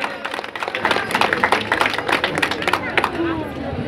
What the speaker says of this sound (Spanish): Un aplauso para el doctor Ismael, hombre.